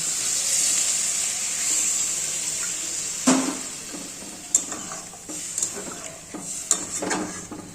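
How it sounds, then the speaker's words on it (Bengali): Water poured into hot oil and fried masala for a cauliflower curry sets off a sizzle that eases into quieter bubbling, with several sharp clinks and scrapes of a utensil on the pan near the end. "এবার আমি জল দিয়ে দেব"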